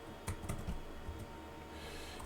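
Computer keys clack in quick bursts as commands are typed on a keyboard while configuring a Cisco network switch, close and crisp, a few clustered taps then sparser strokes.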